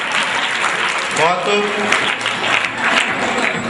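A studio audience claps after a performance on a television program, steady applause layered with a voice speaking briefly over it, the clapping swelling and fading across the span.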